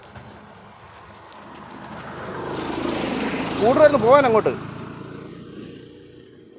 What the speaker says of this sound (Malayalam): അതാണ് വണ്ടി വരുന്നു, സ്കൂട്ടർ വരുന്നു